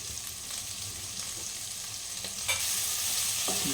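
Potatoes seasoned with turmeric and salt sizzle steadily in a pan, a continuous crackling hiss that grows slightly louder midway, with faint stirring scrapes and a brief clatter near the end.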